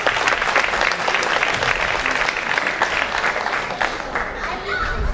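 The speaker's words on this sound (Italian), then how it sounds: "un grande applauso a Ketty" Loud, sustained applause from an audience honouring the painter Ketty at an outdoor fashion, art and sport evening at Carini Castle, steady dense clapping with crowd murmur throughout.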